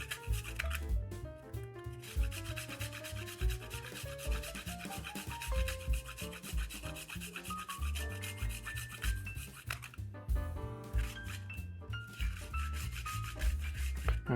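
Rapid rubbing and scraping of a handheld zester grating over food in a small kitchen, a quiet continuous rasp with brisk back-and-forth strokes, heard under soft background music.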